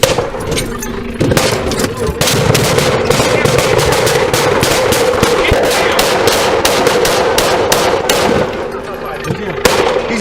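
Gunfire erupts in loud, rapid bursts during an NYPD bodycam shootout with an armed suspect, a dense barrage of shots that barely pauses for about ten seconds, with voices partly buried beneath it.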